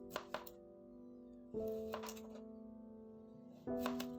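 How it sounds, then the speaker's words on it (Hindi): Knife chopping peeled carrots into thin strips on a cutting board, a few quick sharp taps followed by firm resonant thunks at regular intervals, close and fairly quiet with no talk. "गाजर को पहले इस तरह पतला पतला काट लेंगे।"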